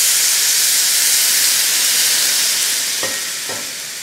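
Rice simmering in freshly added hot water hisses and sizzles loudly and continuously, with two brief scraping stirs near the end as the mixture is combined, no voices.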